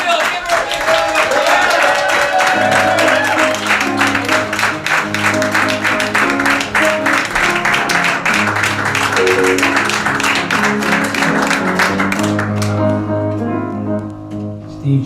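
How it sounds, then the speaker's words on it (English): Loud, sustained audience applause at a comedy show for Julian Assange in Washington DC, dense clapping over a low tonal hum that thins out near the end. "Steve Jones, give him a round of applause"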